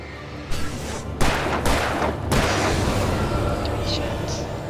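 Gunfire in the game Alan Wake Remastered, a few sharp close shots in quick succession followed by a lingering, booming tail.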